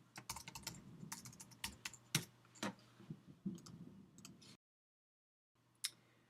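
Fingers typing on a computer keyboard, quick uneven runs of close key clicks, then a brief silence and one last tap.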